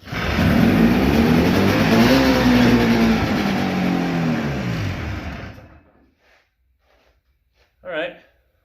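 A 1972 Ski-Doo Nordic snowmobile engine runs loud and steady after starting, a droning motor held for about five seconds before cutting off, followed by silence and a brief voice.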